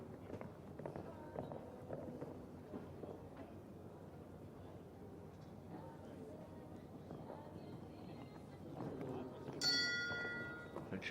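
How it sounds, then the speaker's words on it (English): A bell rings near the end of a round at a show jumping competition for young horses. It comes as a brief bright ringing after ongoing commentary over faint arena noise. "They'll hear the bell as you've heard and bring their round to an early end."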